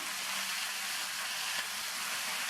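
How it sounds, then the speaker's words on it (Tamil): Tomatoes sauté in a pan with tamarind and salt, a soft, even hiss of frying that holds steady for the whole stretch with no voices. "இந்த தக்காளியுமே ஒரு 2 நிமிஷத்துக்கு வதங்கட்டும்."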